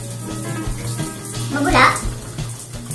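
Water from a shower runs steadily in a home bathroom, a continuous hiss and splash. A voice talks over it.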